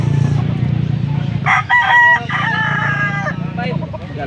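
A young rooster crows at a rainy outdoor poultry market, one strained crow rising over a steady background murmur and low rumble, fairly close.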